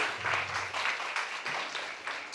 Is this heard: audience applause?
yes